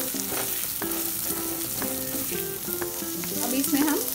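Onions frying in a kadai for kadai paneer, with a steady sizzle and stirring under prominent melodic background music.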